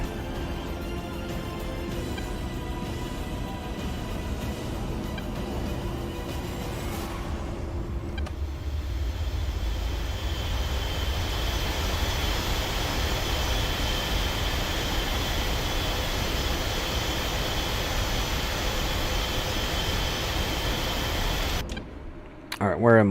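Airliner taxiing in a flight simulator game, a steady engine whine and low rumble that shifts in tone partway through, continuous and fairly loud, ending with a short burst of louder noise.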